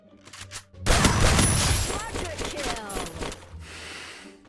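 A loud burst of Free Fire video game gunfire and an explosive blast, with crackling debris and shots trailing off, some voices faintly underneath.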